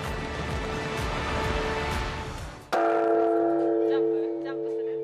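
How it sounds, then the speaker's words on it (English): At Tokyo's Tokudai Temple, crowds strike the temple bell for New Year: a bright, ringing bell strike cuts through the murmuring crowd, then a long sustained hum decays slowly. "crowds line up to ring in the new year by striking the temple bell"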